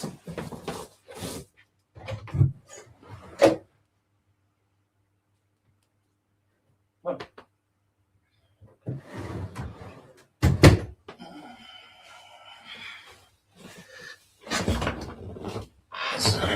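A household door is handled to let a cat out, giving several close thunks and knocks of it opening and shutting, with rattling and shuffling between them and quiet stretches in a room at home.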